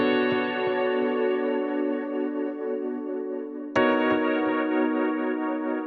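Omnisphere synth patch played with the mod wheel raising the LFO depth, sustained rich tones wavering with added motion, then a fresh note struck sharply near the end, all heard alone.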